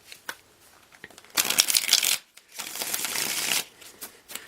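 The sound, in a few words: tarot cards being shuffled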